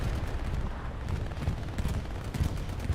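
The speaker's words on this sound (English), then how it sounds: "There comes the bombing run" Bombing run explosions in the Hell Let Loose video game on Omaha Beach, a rumbling series of overlapping blasts and booms rolling on continuously at moderate loudness.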